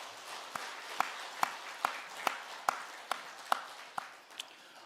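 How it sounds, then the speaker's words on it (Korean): Sparse, evenly spaced claps ring out one at a time during a church service, about ten sharp slaps in a slow steady rhythm over a quiet background. "하나님께 영광의 박수 올려드리겠습니다"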